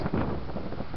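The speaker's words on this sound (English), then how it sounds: "it's a little windy" Wind buffets the microphone on a mountain trail during an April hike up Mt Baldy via Bear Canyon, a soft, steady, low rush with no talking.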